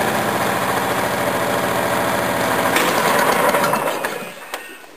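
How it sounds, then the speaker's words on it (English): A small OHV V-twin lawn engine idles close by with a steady, even pulsing beat, then its note shifts and the sound dies away over the final second, leaving near silence. "That's how it's supposed to idle."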